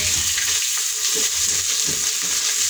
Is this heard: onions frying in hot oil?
yes